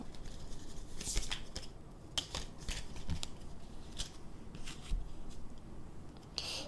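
Tarot cards are handled close up in a quiet room: soft repeated slides, flicks and light taps as cards are shuffled and laid out, faint and irregular, with no voices.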